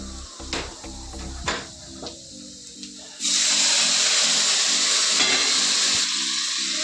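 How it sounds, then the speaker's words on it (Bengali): Chopped onion frying separately in a pan in a home kitchen, a steady loud sizzle and hiss that swells suddenly partway through and then holds, with a few clinks of utensils before it. "এখন আবার একটু পেঁয়াজটাকে ভেজে নিচ্ছি আলাদা করে"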